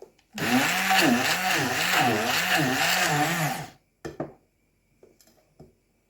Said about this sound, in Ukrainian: Все буду зараз збивати блендером.